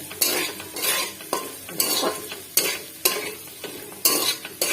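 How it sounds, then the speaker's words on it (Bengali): Onions fry in a pan with steady sizzling while a spoon stirs them in repeated scraping strokes, about a dozen rhythmic sweeps with clinks against the metal, close and clear with no voices. "পেঁয়াজগুলো ভালো করে ভেজে নেবো"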